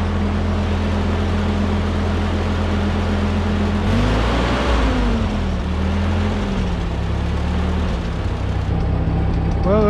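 An old Ford tractor engine, recently repaired after a blown head gasket, runs steadily at idle with a low, even drone and a brief surge in revs midway, loud and close.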